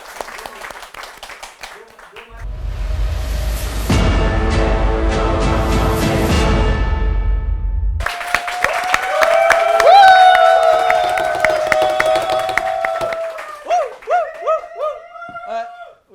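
An audience at a comedy show competition breaks into loud, thick applause and clapping that swells for several seconds, then stops abruptly and a single voice begins talking into a microphone.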